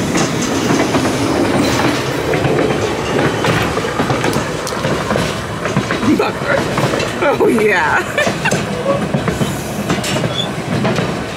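A train rolls along tracks toward the mountains in Alaska, with steady rumbling, rhythmic clickety-clack of wheels and occasional squeals, heard close from an open platform while a person talks briefly over it.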